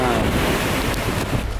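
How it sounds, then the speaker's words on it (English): Strong outdoor wind buffets a microphone fitted with a homemade fluffy windscreen, producing a loud, continuous, rumbling roar with no break. "it doesn't get much windier than this"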